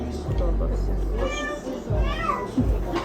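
A cat meows in a few drawn-out, rising and falling cries close by, over a steady low background hum.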